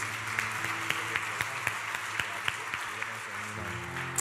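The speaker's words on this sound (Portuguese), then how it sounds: "Você pode aplaudir o Senhor por mais uma vez." Congregation applause in a Brazilian church service, an even, moderately faint spread of clapping with distinct sharper claps standing out, over a sustained keyboard-like backing tone.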